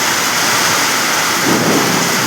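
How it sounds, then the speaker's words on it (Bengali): Heavy rain pours in Garia, Kolkata, with strong stormy wind, a loud dense roar that stays steady and close and grows heavier toward the end. "কি জোরে বৃষ্টিটা হচ্ছে দেখুন, এখানে দেখলে বুঝতে পারেন খুবই জোরে বৃষ্টি হচ্ছে।"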